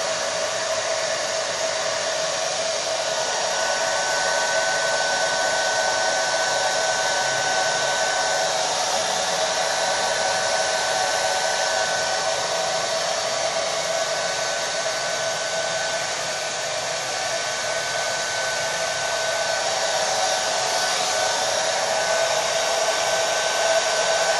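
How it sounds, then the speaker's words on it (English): A hair dryer fitted with a diffuser runs continuously while drying curly hair, a steady close whooshing hum with a faint motor whine and no speech. "so I finished diffusing my hair"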